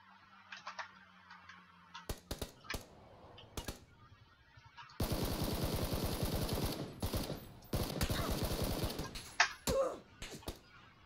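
Video game gunfire in a duo battle royale match: a few sharp single shots, then long bursts of rapid automatic fire, loud and close, with brief pauses between bursts.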